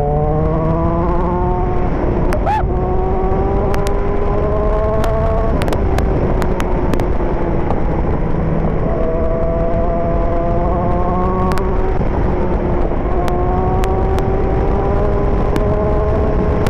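A 1000cc big bike motorcycle races at full throttle, its engine a loud, steady high-revving drone with rising and falling pitch as it shifts through gears, continuous for the whole stretch with no talking.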